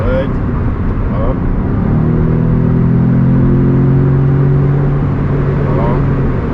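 Audi S3 8V accelerating on an open road, a steady loud engine drone rising in pitch and holding as the car pulls hard, with road and wind noise throughout.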